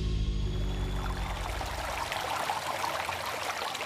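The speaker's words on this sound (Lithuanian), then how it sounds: "Iš gelmių trykšta vandenys." Spring water gushes up from deep ground at the Svilė springs in Kurtuvėnai regional park, a steady rushing, bubbling flow heard up close and alone, with a low hum fading out early on.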